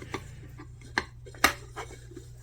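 A small metal camping mess kit is handled for a bushcraft stove test, giving several sharp, separate clinks and taps at close range with quiet gaps between them.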